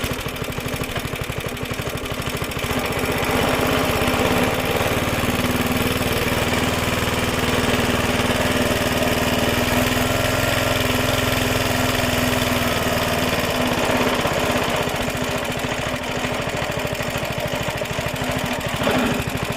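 Vintage Suffolk Super Punch cylinder lawn mower engine running steadily, a close, loud, continuous small-engine drone with a buzzing, even idle throughout and no talking.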